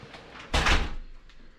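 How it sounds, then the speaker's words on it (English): A sliding bathroom door in a hotel king room at Harrah's Southern California rolls open, one short whooshing slide with a light knock, close and alone. "Look at this door here for the bathroom. Right when you walk in the door. This is cool. Slides over."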